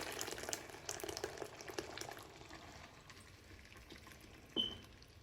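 Dalcha, a Hyderabadi lentil and vegetable curry, bubbles faintly at a gentle simmer, a soft steady burble of small pops with one brief sharper sound near the end, no voices.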